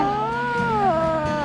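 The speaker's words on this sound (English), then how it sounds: "And you got more kittens." A kitten meows in a drawn-out, wavering cry with a brief second call, close and fairly loud, with no talk over it.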